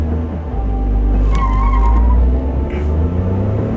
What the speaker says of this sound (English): left foot on the brake, right on the gas, and then give it full gas